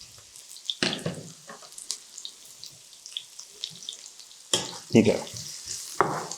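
Peppers frying and being stirred in a pan, with soft crackling sizzle and scraping stirs that swell into louder bursts near the end; one short spoken word.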